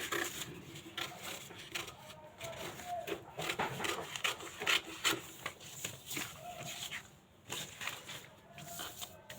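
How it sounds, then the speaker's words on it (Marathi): Scissors cut through blouse fabric along the back neckline, soft irregular snips and rustling of cloth close up, with someone talking over the cutting. "आता हे कट करू आपण सुरुवातीला पाठीमागचा मुंडा तो कट करून घ्यायचा"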